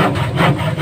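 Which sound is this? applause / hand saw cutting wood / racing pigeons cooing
hand saw cutting wood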